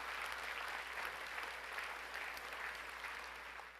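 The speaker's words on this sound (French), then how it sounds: "Je crois qu'on peut les applaudir." An audience at a mayor's dinner event applauds, a steady wash of clapping from many hands that holds evenly and fades slightly toward the end.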